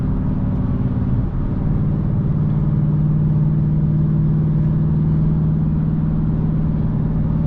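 A 5.7 Hemi R/T V8 rumbles loud and close while driving, a deep steady engine drone with a slight rise in revs early on, continuous with no talk.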